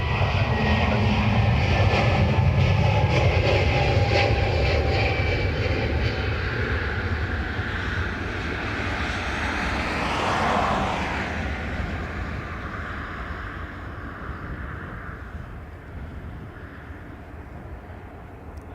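A Ryanair airliner rumbles loudly at the runway holding point at Dublin Airport, its engines a broad steady roar that slowly fades and shifts in pitch, with no voices.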